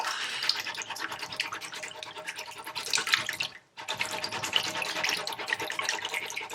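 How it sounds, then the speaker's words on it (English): A mouldy beeswax wrap scrubbed under running cold water, with continuous close rubbing and splashing over the flowing tap, a brief pause midway, then steady scrubbing again. "I'm just going to keep scrubbing for a little bit longer"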